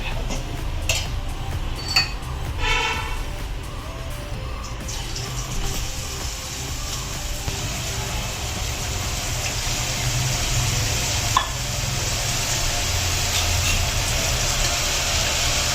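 Kara boondi batter drops into hot oil for deep frying, settling into a steady, dense sizzling hiss. A few light utensil clinks and rattles sound near the start.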